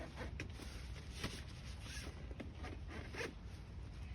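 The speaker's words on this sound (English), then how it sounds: "there's a zip on this side" A tent zipper is pulled closed in a continuous run of scratchy, rasping bursts, close and fairly loud, with no talking.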